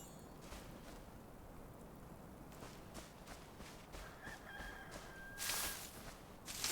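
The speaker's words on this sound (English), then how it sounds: "I hear a cockerel." A rooster crows once, faint and distant, over a steady rustling background of ambient game noise in the video game Enshrouded.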